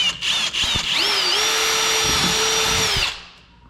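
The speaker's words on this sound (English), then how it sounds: "make sure your drill bit is just wider than whatever zip tie you choose to use" A power drill bores a hole for zip ties during a kayak seat riser install for an Old Town PDL, with a few short bursts and then a loud, steady whining run of about two seconds that winds down and stops.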